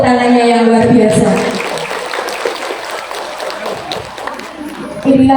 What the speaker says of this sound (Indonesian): Sekali lagi saya minta tepuk tangannya yang luar biasa.